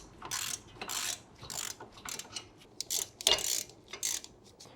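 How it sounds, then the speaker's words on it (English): A number 7 Allen ratchet tightening mounting bolts during a brake rotor install on an Alfa Romeo, rapid bursts of clicking pawl ratcheting in repeated strokes, close and fairly quiet with brief pauses between strokes. "we're gonna use our number 7 Allen again to tighten those up"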